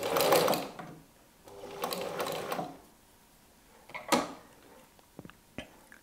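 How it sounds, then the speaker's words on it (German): A sewing machine stitches fabric in bursts for a small Halloween pumpkin basket. Two quick whirring runs are followed by ratcheting clicks and mechanism creaks, close and clear. "Wir sichern unsere Fäden und nähen ein paar Mal auf der Stelle."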